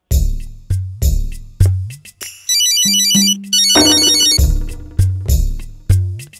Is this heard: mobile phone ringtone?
yes